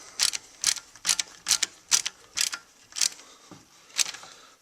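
An Allen wrench ratchets a set screw tight on an M60E6 rifle handguard, a series of about nine crisp metallic clicks in an even rhythm, close and fairly quiet with no talk.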